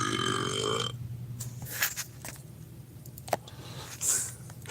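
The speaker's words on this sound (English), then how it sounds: "Hey, Google, give me a really big burp." A loud, drawn-out burp sound effect plays from a Google smart speaker in a home, a long gurgling belch that fades into quieter room noise with a few small clicks.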